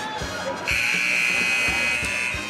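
A loud, steady electronic end-of-period buzzer sounds in a high school boys basketball gym and holds for nearly two seconds, over crowd noise and the thump of a bouncing ball.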